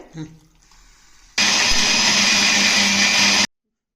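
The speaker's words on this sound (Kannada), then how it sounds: "ಮಿಕ್ಸಿ ಜಾರ್ಗೆ ಜಾರಿಗೆ ಹಾಕಿ ರುಬ್ಕೊಳ್ಬೇಕು ಅಲ್ವಾ ನೈಸ್ ಆಗಿ ರುಬ್ಕೊಳ್ಳೋದ" Kitchen mixer grinder whirring loudly and steadily for about two seconds as it grinds cucumber peel chutney, starting abruptly after faint background sounds and cutting off sharply.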